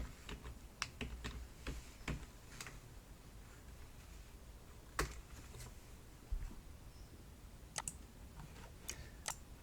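Someone types on a computer keyboard to rename a group in design software, making sparse, faint key clicks in irregular bursts against a quiet room, with no talking.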